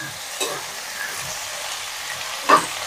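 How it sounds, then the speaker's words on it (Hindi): Potato and eggplant pieces stirred and frying in a hot pan, a steady sizzle with two brief louder scraping stirs, close and alone without talk. "आलू बैंगन डालने के बाद इसको अच्छे से चला देना है।"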